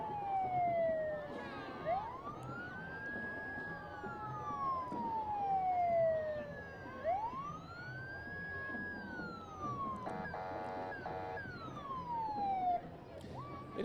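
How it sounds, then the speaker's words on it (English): Kern County Fire Department sirens wail at a Christmas parade, slow rising and falling sweeps repeating over several seconds, with a brief burst of rapid yelp partway through, heard at moderate distance over crowd noise. "we'll hear the sirens, of course."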